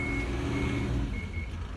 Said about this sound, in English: when this finishes you'll hear a double beep